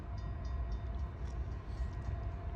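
A loaded coal train approaches, led by a 911 First Responders heritage locomotive, producing a continuous low, rolling rumble from the rails that holds steady and fairly distant throughout.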